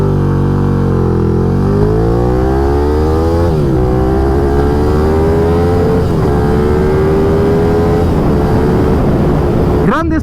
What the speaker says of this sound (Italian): Partenza da fermo su questa bestiaccia e cerchiamo di gestire la grande coppia che ha.